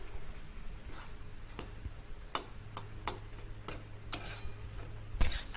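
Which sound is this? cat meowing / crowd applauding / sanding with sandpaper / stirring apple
stirring apple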